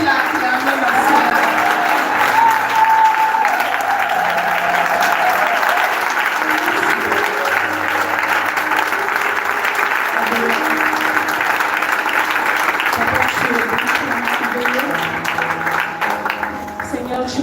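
Congregation at a French-speaking church service applauding and cheering in sustained, dense clapping that fills the room, with voices calling out through it and fading slightly toward the end.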